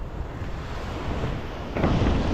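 Ocean waves surging onto Velaneshwar beach near Guhagar, a steady broad wash of surf with wind buffeting the microphone, swelling louder near the end as a bigger wave rushes in close.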